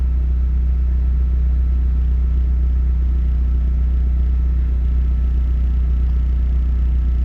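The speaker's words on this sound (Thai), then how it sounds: "ของผมต่อ ปุ๊บเนี่ย รอบมันจะเร่งขึ้นเพราะว่าผมตั้งไว้สูงเวลาคอมต่อ" An older car's engine idles with a steady low rumble, its speed set to rise when the air-conditioning compressor kicks in on a system converted from R12 to R134a refrigerant; the drone holds even and close throughout.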